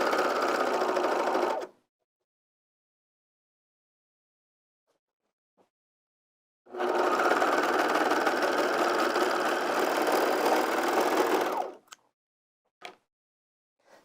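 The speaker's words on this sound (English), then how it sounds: "I'll just give it another pass with a sewing machine" A sewing machine stitches a seam on lounge pants in two runs, a short burst and then a longer steady whir of about five seconds, close and loud, with quiet pauses and a few small clicks between.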